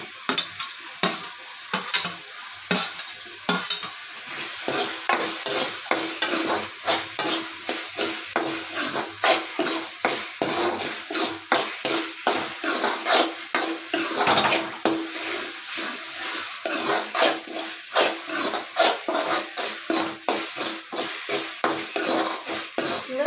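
Potatoes stirred into hot oil with ginger-garlic paste in a pan for egg kurma, a steady close sizzle broken by repeated scraping strokes of a spoon at a quick, regular rhythm throughout.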